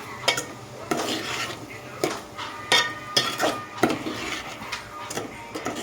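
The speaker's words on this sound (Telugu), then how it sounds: "బాగా మనం మిక్స్ చేసుకోవాలి." A spoon stirs and scrapes food around a metal pot while cooking, giving repeated clanking strokes at a steady, uneven pace, close and fairly clear.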